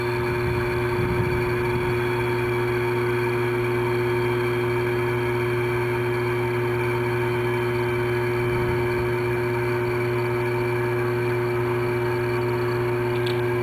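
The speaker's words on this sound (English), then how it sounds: "You'll hear the gas going into the cylinder in a second" Nitrogen gas flows into a dry chemical fire extinguisher cylinder as it pressurizes, a steady close-up hum with strong sustained tones and a faint hiss, unchanging throughout, no voices.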